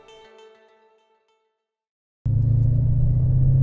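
A Mercedes E55 AMG on a test drive: after fading sounds and a second of near-silence, the engine cuts in suddenly with a loud, steady, deep rumble, close and continuous to the end.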